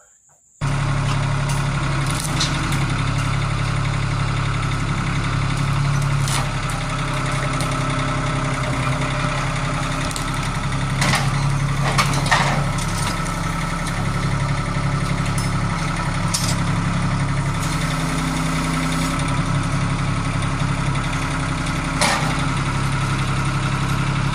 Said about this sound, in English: This is a 2005 790 John Deere.